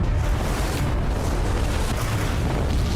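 Cannon fire and explosions roar through a naval battle scene in a war film, a loud continuous rumbling wash of blasts and noise that stays dense and heavy for the whole stretch, without distinct separate booms.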